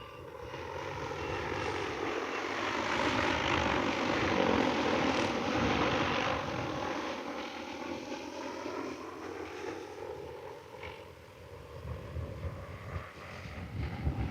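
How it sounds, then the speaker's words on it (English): J150 agricultural spray drone flying home over a hillside while following the terrain, its propellers giving a broad, steady whirring drone that swells as it nears and then eases slightly, heard outdoors with no talk. "We'll back up and let the drone come in."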